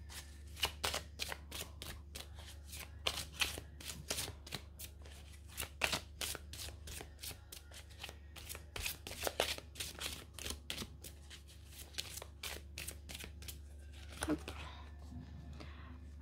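Tarot cards being shuffled by hand, a quiet series of crisp papery flicks and riffles in uneven bursts, fairly close, with a faint low hum beneath.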